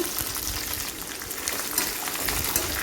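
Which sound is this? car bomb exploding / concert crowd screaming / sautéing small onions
sautéing small onions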